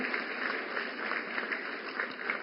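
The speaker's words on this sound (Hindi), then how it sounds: "तो जोरदार तालियों से स्वागत करें हमारी लखपति दीदियों का।" Applause from an audience at a Sashakt Nari Viksit Bharat programme in New Delhi, steady continuous clapping from a large crowd, fairly loud and unbroken throughout.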